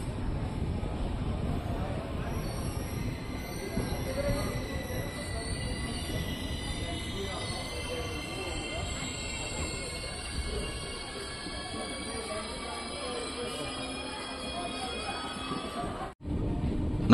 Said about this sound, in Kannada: ನಮ್ಮ ಟ್ರೈನ್ ಈಗ ಸೈದಾಪುರ ರೈಲ್ವೆ ಸ್ಟೇಷನಿಂದ ಹೊರಟಿದೆ.